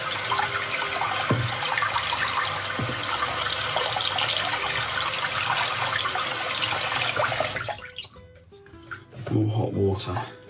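Water runs steadily over a scored glass bottle to crack it, a close continuous tap stream with faint taps, then it cuts off near the end as a voice talks.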